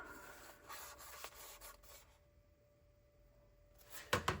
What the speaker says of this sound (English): We'll just cut them with scissors.